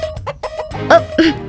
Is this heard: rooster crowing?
yes